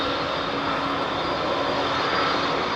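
A jet aircraft takes off at London Heathrow Airport, a loud, steady broadband engine roar with a constant whine holding at full power throughout.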